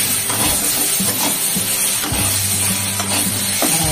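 Water goes into a pan of sizzling, well-fried spice paste for an egg curry, and a loud, close hiss and bubbling surges with low rumbling pulses as the liquid hits the hot oil.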